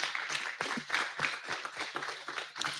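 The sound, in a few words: round of applause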